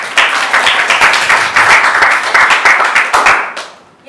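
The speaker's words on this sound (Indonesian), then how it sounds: "Tepuk tangan dulu." A classroom full of people clapping steadily for a few seconds, dense and lively, before the applause tapers off near the end.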